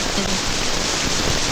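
Steady rain falling in a broad, even hiss throughout, loud and close, with no voices.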